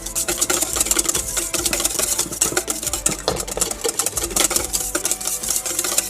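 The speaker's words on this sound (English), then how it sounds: "you can see how it's getting frothy like that, and you just keep whisking" A whisk beats egg yolks for hollandaise sauce in a steady, rapid clicking and scraping against a bowl, continuous and moderately close, with no talking.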